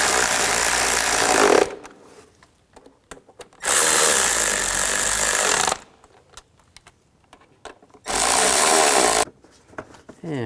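A power driver tightens the intake cover bolts on a 2003-08 Nissan Maxima in three loud, close bursts. Quiet clicks and handling noises fill the pauses between them.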